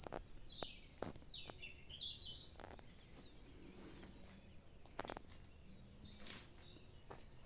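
Scattered morning bird chirps and short calls ring out in a quiet village setting, fairly faint, over a soft background hum.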